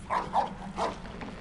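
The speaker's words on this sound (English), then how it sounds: "That sounded like a dog." A few short muffled barks from a dog in a Harry Potter video game, somewhat distant and softened, over a steady low background hum.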